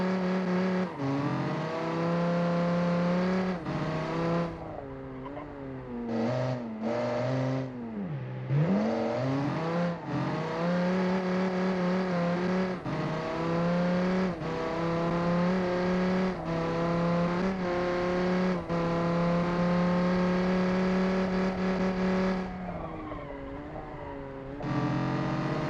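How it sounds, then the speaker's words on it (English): A car engine revs hard and holds high, the pitch climbing and dipping repeatedly with a gritty, burbling exhaust tone, loud and continuous. "when I let off the throttle, listen to the burping of the exhaust"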